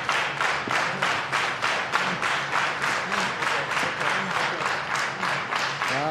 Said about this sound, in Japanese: 両者の戦いに拍手が送られている